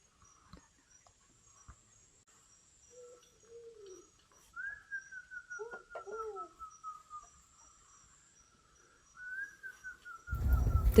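In a Borneo rainforest, guides whistle in imitation of the rare Borneo ground cuckoo: faint, gliding coo-like calls, some higher and some lower, repeated over quiet background, ending in a brief burst of noise.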